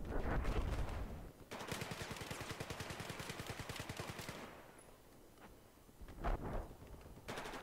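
L86A2 light machine gun firing in Battlefield 4, a short burst, then a long fast-rhythm stream of automatic shots lasting about three seconds, followed by a lull and a few scattered shots and booms.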